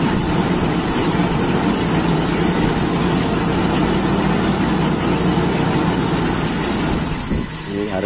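A Toyota Kijang Super engine idles unevenly, unable to hold a steady idle, with a loud continuous rough running that stays close and even throughout, shifting slightly near the end.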